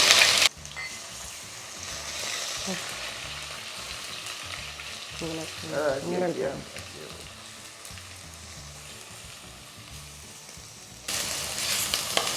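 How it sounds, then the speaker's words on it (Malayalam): Garlic and ginger frying in a pan on low flame for a green grape pickle, a continuous soft sizzle with stirring scrapes and a brief louder spatter, close by and without talking. "വെളുത്തുള്ളിയും ഇഞ്ചിയും ആഡ് ചെയ്യാം."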